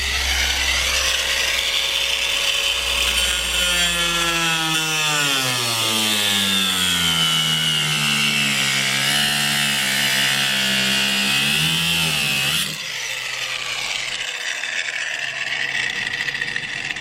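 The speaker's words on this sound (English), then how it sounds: "We're gonna grind off this lock and put the new gas cap on." An angle grinder cuts through the locking gas cap on a 2009 BMW 328i, a loud steady whine with shifting pitch lasting about twelve seconds before it stops abruptly, leaving a quieter hum.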